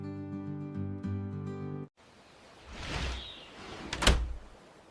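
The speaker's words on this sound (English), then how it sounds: "I open the door." A door is opened after a brief musical passage, giving a soft rustling swing and then a sharper knock or latch sound, fairly faint and with no speech.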